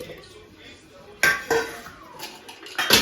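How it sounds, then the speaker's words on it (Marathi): Metal clanks and knocks as a pressure cooker is set down on a kitchen stove to cook sambar, a few sharp bangs amid quieter kitchen clatter. "चलो आता सांबारसाठी लावते कुकर"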